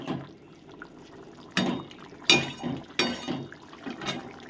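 Egg and potato curry bubbles in a pan, with soft gurgles and pops rising and falling at an uneven pace, close and fairly quiet with no speech.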